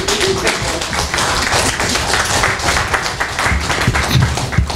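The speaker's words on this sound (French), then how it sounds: "Je vous demanderai d'applaudir pour les deux" Dense applause from a panel audience in a hall, many hands clapping at once in a loud, sustained burst with scattered thumps, no talking over it.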